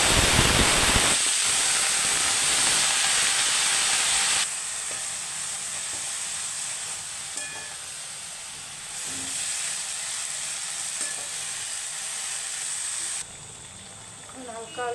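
Leafy greens hiss and sizzle as they hit potatoes already fried golden-red in a pan; a loud burst of steam opens, then a steady frying hiss continues, easing slightly toward the end.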